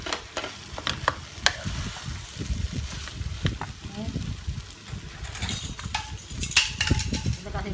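Mashed tempe is stirred and fried in a pan with aromatic spice paste, giving a steady sizzle with scraping strokes of a spatula, while a person talks over the cooking.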